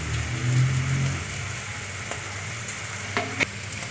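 Coconut and cluster beans (goruchikkudu) frying in a pan, seasoned with salt and chilli powder: a steady broadband sizzle throughout, with a brief louder crackle near the end and no talking.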